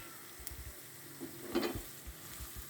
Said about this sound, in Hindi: ये देखिए बिल्कुल जो है हर तरफ से इक्वली ये फ्राई हो रहा है।